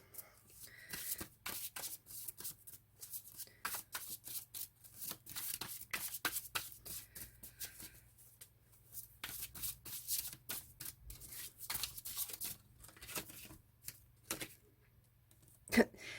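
A Victorian Romantic Tarot deck is shuffled by hand in quiet, irregular bursts of riffling and card slaps, close and soft, spread over the whole stretch.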